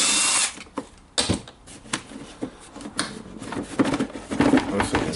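A power tool backs a screw out of a Nilfisk Alto vacuum cleaner housing, giving short, close bursts of whirring and ratcheting with brief pauses between them.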